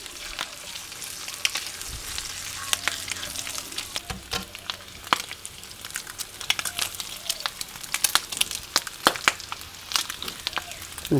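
Bacon, eggs and potato pieces sizzle steadily on a Campboss All 4 Adventure portable grill stove, with crackling pops and scraping clicks from turning the food, all fairly close and without talk.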